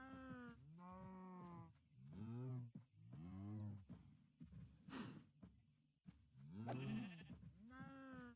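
Sheep in the Minecraft video game bleat repeatedly, wavering nasal calls coming one after another at close range, with a few short clicks and thumps of game action in between.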